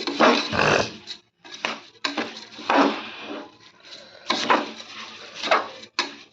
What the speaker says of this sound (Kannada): ಈಗ ನೋಡ್ರಿ ಅಕ್ಕಿ ಹಾಕಿದ್ಮೇಲೆ ಒಂದು ಸತಿ ಚಂದ ಕಲಿಸ್ಕೊಂಡು ಬರ್ತೀನಿ ಅಕ್ಕಿ ಸ್ವಲ್ಪ ಫ್ರೈ ಆಗ್ಬೇಕ್ರಿ